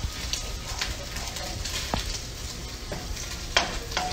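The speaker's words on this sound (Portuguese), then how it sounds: "Tem que fritar bem o bacon." Bacon fries in a pan with a continuous crackling sizzle, broken by a few sharp pops and brief scraping stirs, heard close.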